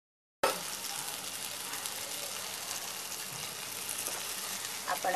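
Surmai fish pieces fry in a pan for a Malvani fry: a steady, even sizzle that starts abruptly and continues without a break, fairly soft and heard alone.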